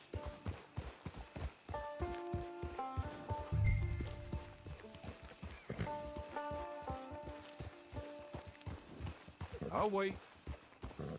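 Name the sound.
horse hooves in video game Red Dead Redemption 2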